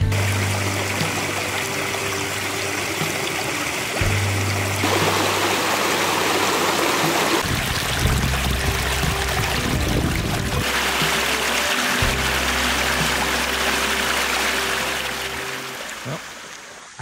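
Steady rushing water of a waterfall on Michigan's northern coast in fall fills the scene, a constant close wash with a low hum underneath and no voices.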